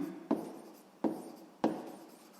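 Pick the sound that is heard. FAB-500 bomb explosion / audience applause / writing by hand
writing by hand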